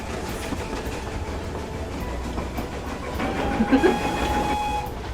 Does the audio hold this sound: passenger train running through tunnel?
yes